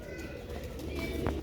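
Sialkoti Chuhay pigeons, a pure-bred breeder pair, coo softly and continuously in a loft, a steady low murmur with background noise throughout.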